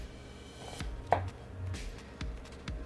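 A knife chops through an onion on a cutting board in a kitchen, several sharp, distinct knocks spaced unevenly, close and fairly quiet with no talking.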